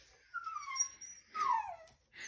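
A pet dog whimpers and whines in a few rising and falling high-pitched cries, fairly close and faint, with no talk.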